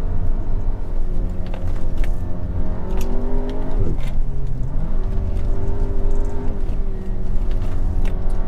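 A Cupra Ateca SUV engine pulls hard on a winding road on winter tyres, a loud close drone rising in pitch through the gears, dipping at a shift and then climbing again.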